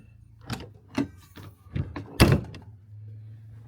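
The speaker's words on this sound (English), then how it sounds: "Close the door here." A door on a new Pasadena RV being pushed shut with a single solid thunk, preceded by a few lighter handle and latch knocks, close by with a faint hum continuing afterward.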